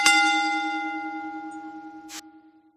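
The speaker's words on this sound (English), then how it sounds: "we are going to ring that damn bell" A wrestling ring bell struck once close up, a bright metallic clang ringing out and slowly decaying, with a short burst of noise near the end.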